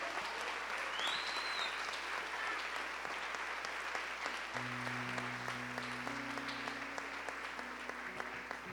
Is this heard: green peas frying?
no